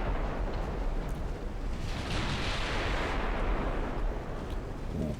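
Naval gunfire in a warship video game: a sustained, dense roar of heavy cannon blasts and rumbling booms that swells through the middle, loud and continuous, with no talk.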